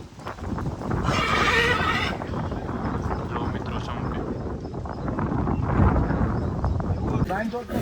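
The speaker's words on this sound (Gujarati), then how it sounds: "ઘોડી." A mare whinnies loudly and close by, with hooves clopping, wind buffeting the microphone and people talking nearby.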